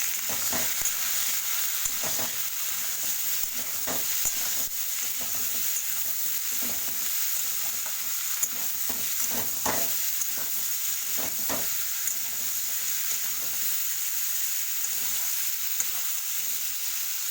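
Vegetables with salt sizzle in a hot pan with a constant frying hiss, broken by repeated scraping stirs of a spatula; no talking.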